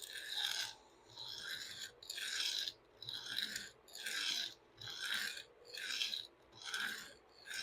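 Knife blade drawn across a coarse sharpening stone at a steady 17-degree angle with light pressure, about eight even rasping strokes in a regular rhythm, close and clear with no talking.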